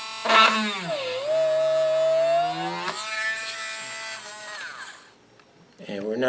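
A power drill with a dull bit whines steadily, its pitch sagging under load as it bites into windshield glass, then rising again before it stops; a voice comes in at the end.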